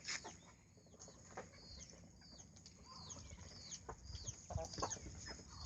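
Laying hens clucking and calling at a farm, several bird voices overlapping in short squawks and clucks against a steady noisy background, moderately distant and fairly quiet, with no talk.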